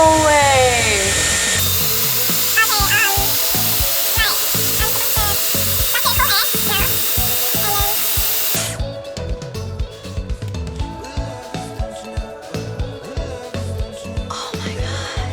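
A Dyson Airwrap hair styler blowing air, a loud steady whooshing roar that shifts in tone partway through and then gives way to quieter rustling and handling noises.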